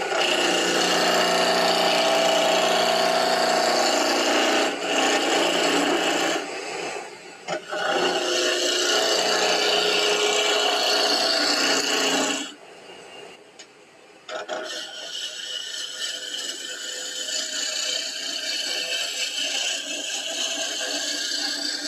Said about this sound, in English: Spindle roughing gouge.